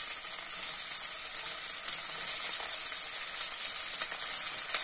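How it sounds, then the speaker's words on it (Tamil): Chopped onions sauté in hot oil for a Tamil bitter gourd tamarind curry, giving a steady, close, dense sizzle with faint crackles and no voices. "நல்லா வதக்கி விடுங்க"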